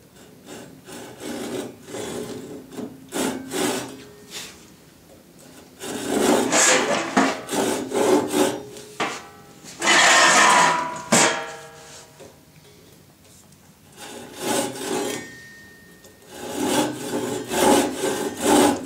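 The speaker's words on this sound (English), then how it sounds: "I'm going to pass a plane right down through these three different surfaces here" Hand plane shaving exceptionally hard wood with a slightly dull blade, passing down across three surfaces of a router table workstation: repeated rasping strokes of varying length, close and fairly loud, with pauses between passes.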